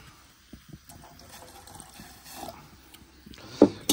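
Boiling water poured into a cup of strong coffee with milk, a soft gushing trickle building toward the end, with small clinks along the way.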